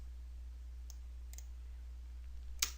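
Computer mouse clicks while selecting faces in CAD software, a few soft, isolated clicks spaced apart over a quiet, steady hum.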